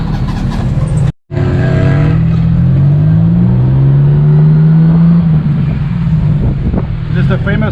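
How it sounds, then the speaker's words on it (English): A tuk-tuk engine in Bangkok drones loudly up close and rises in pitch as it revs. The sound cuts out for a moment early on, then carries on steady with wind rushing past. "This is the famous tuk-tuk in Thailand."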